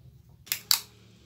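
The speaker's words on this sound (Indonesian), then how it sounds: "Oke, kasih lakban lagi di sininya" Adhesive packing tape being pulled and stuck onto a homemade trumpet made from a used sewing-thread spool, two quick, close ripping strips in succession in a quiet room.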